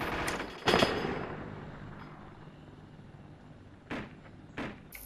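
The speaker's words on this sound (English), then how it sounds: "I hear an enemy sniper, do you hear that?" Enemy sniper rifle fire in the military combat game Arma: a sharp shot cracks out early, then two more follow a few seconds apart, all fairly distant and faint over quiet ambient noise.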